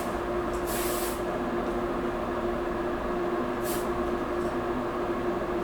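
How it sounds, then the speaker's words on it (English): Semi-wet coat of paint sprayed onto a Hasegawa Lancia Stratos HF Stradale scale model car body: two short hissing spray bursts over a steady, fairly loud background hum, with no talk. "Spray on a little bit more until it levels."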